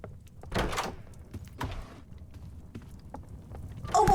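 A door opens in the Roblox horror game Doors with a few separate dull thuds and a creaking bump, fairly faint and heard over quiet background noise.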